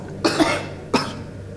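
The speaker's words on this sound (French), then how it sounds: "j'essaie de retenir mes toux, mais c'est compliqué" Two sharp coughs, close and fairly loud, spaced under a second apart, each trailing into a short breathy rasp, with no speech.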